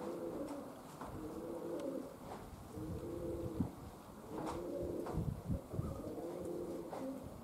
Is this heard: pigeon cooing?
yes